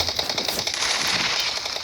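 Rapid gunfire from a Kar98 rifle in a video game, a dense burst of sharp cracks packed close together across the whole stretch, loud and steady with no talk over it.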